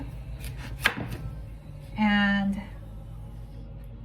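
A knife slices through raw yuca, producing a sharp cutting knock followed by scraping through the root, close by in a home kitchen with faint background noise.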